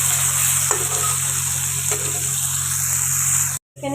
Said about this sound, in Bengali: আর এখানে এখন তেজপাতা ফোড়ন দিয়েছি, একটা গোটা শুকনো লঙ্কা, আর টমেটো আর ক্যাপসিকাম